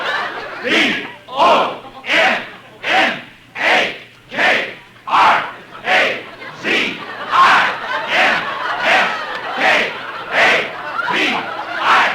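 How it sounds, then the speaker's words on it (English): A football rooting section chants in rhythm, about a dozen loud, evenly spaced shouted bursts from a massed crowd, each rising and falling in a steady cadence with brief gaps between. "The rooting section stood up and began to cheer for me."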